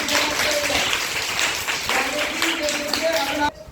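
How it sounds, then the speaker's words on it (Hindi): Children clap in a classroom, a dense, loud burst of applause that runs for about three and a half seconds and then stops abruptly. Voices can be heard mixed in with the clapping. "बिल्कुल जोरदार ताली बजाइए"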